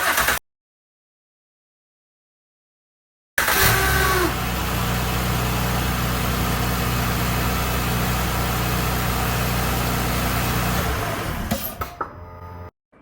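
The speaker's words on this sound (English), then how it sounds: "So why don't we go start the car" A car engine cranks, with battery voltage dropping to about 9.7 volts, and catches after a moment of silence, then settles into a steady, low idle that continues before cutting off near the end.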